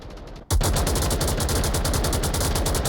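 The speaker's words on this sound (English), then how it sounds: "Lots of gunfire coming out from Lipinski through the window onto the objective backside" Dense automatic gunfire from the VR shooter game Onward, a competitive match with a player firing through a window onto an objective; after a brief quiet start, loud rapid sustained bursts fill the rest without pause.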